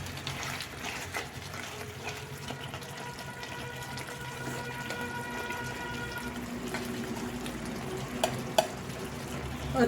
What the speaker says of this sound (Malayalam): ഇതിലേക്ക് ഞാൻ കുറച്ച് കറിവേപ്പില ഇട്ട് കൊടുക്കുന്നുണ്ട്.